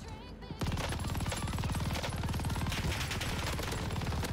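Sustained, rapid automatic gunfire from paired EM2 rifles in the Warzone battle royale shooter, loud and dense, bursting in after a brief quieter lead-in and rattling continuously to the end.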